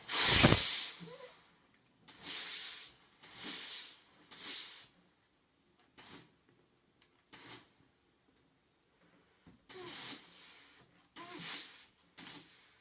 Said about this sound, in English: we're going to lay this pressing sheet right over the top, and we're going to press this